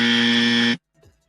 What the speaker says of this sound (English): give the parents the dummy buzzer